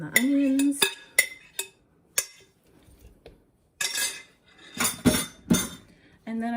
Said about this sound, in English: Put in the rest of the meat and the onions.